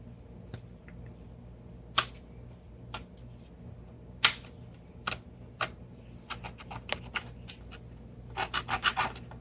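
Fine-tip file rubbing over small details of a 3D print, soft scratchy strokes and sharp ticks in an irregular patter that quickens toward the end, close against a faint background hum.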